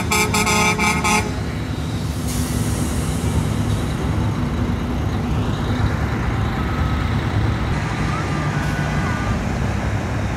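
A bus numbered 84 rolls in as part of an arriving convoy in Guadalajara. It sounds a loud, close horn blast at the start, and heavy engine rumble and crowd noise carry on beneath a few softer honks.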